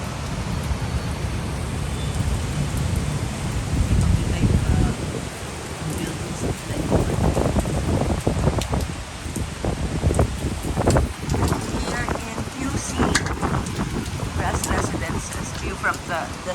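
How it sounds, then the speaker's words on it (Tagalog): Heavy rain during the Philippine rainy season, heard from a 27th-floor apartment as a dense, loud, steady wash mixed with gusting wind and some irregular spattering. "Sobrang lakas ang ulan."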